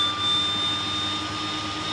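Aircraft engine starting in Microsoft Flight Simulator 2020, a steady broadband jet-like whine and rumble with faint high tones, moderately loud and unbroken, no voice.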